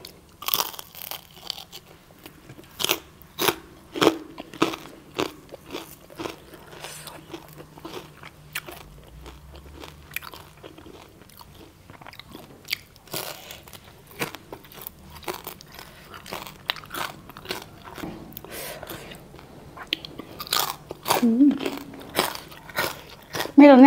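Crunchy fried pork belly bitten and chewed close up, with repeated sharp crisp crunches in an uneven rhythm throughout, under intermittent talking.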